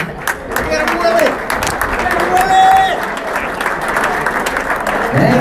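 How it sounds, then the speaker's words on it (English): A crowd applauds and cheers steadily and loudly for a comedian at a live comedy show, with whoops and scattered voices mixed into the continuous clapping. "if I could have a warm applause for our comedian, Will Noonan."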